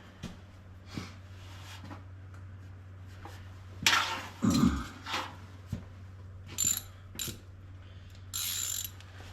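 Ratchet snugging up turbo manifold bolts during a single-turbo build, with quiet short clicking bursts and a few louder rasping pulls over a steady low hum.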